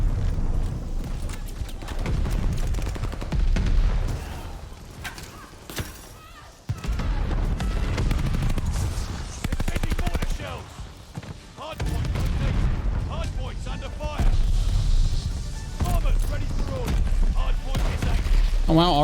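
DP-27 light machine gun fitted with a fire-rate barrel in the video game Call of Duty: Vanguard, firing long rapid bursts with sharp, dense reports, broken by short pauses, while a player talks over it.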